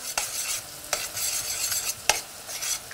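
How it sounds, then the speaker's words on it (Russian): Tomato paste stirred into frying cabbage in a pan, a spoon scraping in several quick strokes, each with a sharp tap against the pan, over a bright continuous sizzle. "Теперь осталось только лишь перемешать томат-пасту"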